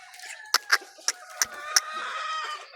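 A hen clucks in a series of short, sharp bursts over a steady background hum, fairly close and moderately loud.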